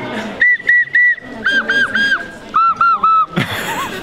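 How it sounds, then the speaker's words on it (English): A ceramic whistle mug, its whistle built into the handle, is blown in a series of short, bright, warbling toots in groups of three, close by, with faint crowd chatter in the background. "There's a whistle on this handle."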